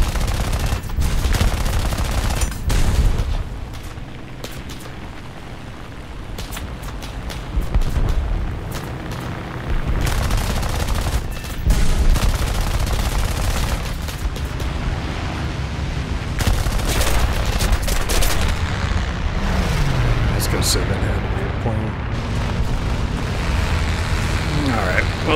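Rapid machine-gun bursts and cannon fire crackle around a P-26A-34 M2 fighter during an Air Arcade dogfight in War Thunder, loud and dense over a steady engine drone with repeated sharp volleys throughout.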